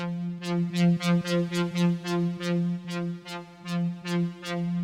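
A buzzy, harmonically dense synth lead plays a steady low note, with bright distorted stabs pulsing in an uneven rhythm on top.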